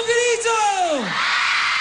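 On stage at a Teleton charity concert, girls let out a loud, short collective scream that rises and then swoops down in pitch before fading into crowd noise.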